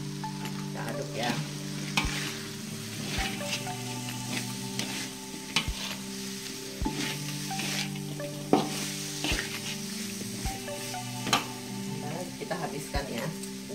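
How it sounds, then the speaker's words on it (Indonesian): Tempe and salted squid in soy sauce sizzle steadily in a frying pan while a spatula stirs and scrapes, with sharp clacks against the pan every second or so over the continuous frying. "Kita aduk ya."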